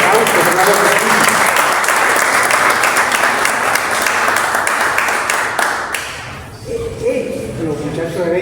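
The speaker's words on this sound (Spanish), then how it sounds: "Y un gran aplauso, claro que sí." Loud, dense applause from a large crowd, steady for several seconds, then dropping off abruptly into quieter room noise with a few scattered claps.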